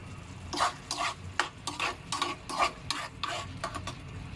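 Sardines with a splash of vinegar stirred in a pan, a utensil scraping in quick, rhythmic strokes, about a dozen distinct swishes, close and moderately loud.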